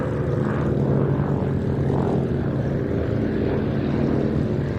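A propeller aircraft flies past at the IWM Duxford airshow, its engines making a loud, steady droning roar that swells slightly as it passes. No one speaks.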